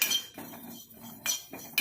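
Fenugreek seeds and black cumin are stirred as they roast in a pan, giving a few short metallic scrapes and clinks of utensil against the pan in irregular bursts, close and fairly quiet.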